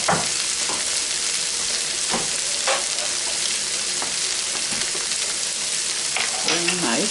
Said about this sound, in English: I drop my onions in.